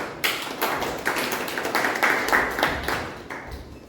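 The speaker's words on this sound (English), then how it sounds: "Please give her a round of applause." A round of applause at a Toastmasters club meeting, a room of people clapping in a steady patter of overlapping claps for about four seconds, with no talk.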